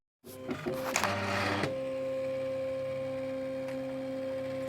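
Silhouette Cameo cutting machine cutting card stock, a close steady mechanical whir with a hum, beginning with a few clicks and shuffling movements before settling into a continuous drone, with no talking.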